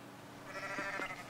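In the farming game Coral Island, a goat gives a single quiet, wavering bleat lasting under a second, fairly faint against a low background.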